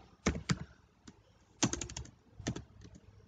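Typing code on a computer keyboard, quick bursts of close key clicks with short pauses between groups of strokes, quiet and alone with no voices.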